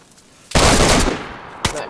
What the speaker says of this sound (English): He's just dumping rounds into me and he doesn't even realize he's missing.